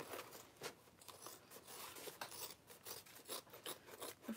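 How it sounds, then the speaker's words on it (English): Fabric seam allowance being trimmed with scissors while sewing a small bowler bag: soft, rapid rasping snips close by, steady and quiet with no voices. "I'm trimming down the seam allowance"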